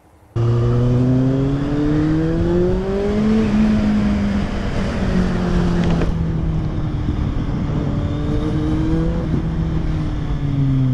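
A motorcycle engine hums steadily as it revs up and down, pitch rising and falling, with wind noise buffeting throughout.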